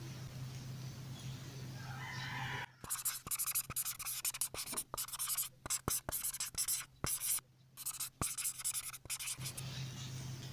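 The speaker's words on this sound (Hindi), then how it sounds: "तो चले फिर यहाँ पर हम लिख लेते हैं।" Handwriting of a math solution, with close, clipped pen strokes and scratches in irregular bursts over a steady background hum; a rooster crows faintly in the distance before the writing starts.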